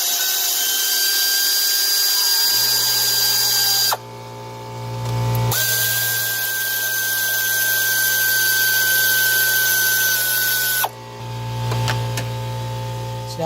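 A power tool loosens 10mm bolts on the cold-side intake charge tube of a Ford Super Duty 6.0 diesel, running in long, loud whirring bursts with abrupt stops and restarts.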